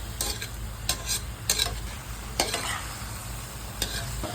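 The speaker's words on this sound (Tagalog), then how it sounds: "and igisa natin" Saluyot and chili leaves sautéing in a pan, with a steady sizzle and sharp stirring scrapes that come in bursts of a few strokes, close and fairly loud.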